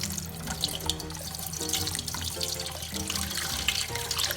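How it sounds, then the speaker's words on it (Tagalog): Tapioca sago pearls are washed under a steadily running kitchen tap, the water splashing and trickling continuously and close by with no voices. "Hugasan natin siya sa running water."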